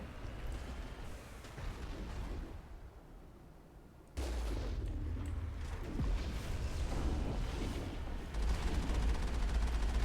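The Mako tank's cannon in Mass Effect fires in heavy booming bursts amid rumbling combat noise that swells sharply partway through and stays loud and dense to the end.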